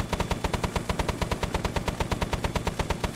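A ZSU anti-aircraft gun fires in ARMA 3 as a steady, rapid stream of evenly spaced heavy cannon shots, loud and continuous for about three seconds.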